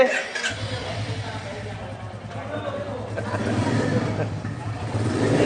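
Royal Enfield Classic 350 motorcycle idling and being revved in a showroom, a low thumping engine note that rises steadily in loudness, with people talking over it.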